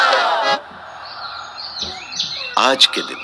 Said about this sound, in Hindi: यह कुटिया जहाँ पंछी चहचहा रहे हैं